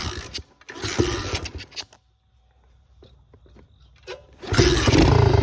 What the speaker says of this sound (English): cold start, I left the gas on and no choke. We'll see how many kicks